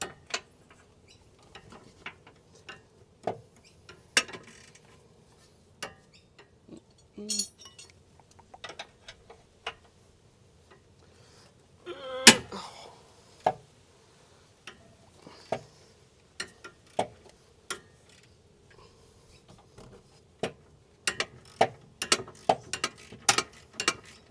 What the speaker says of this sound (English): Do you really like the sounds of my ratchet?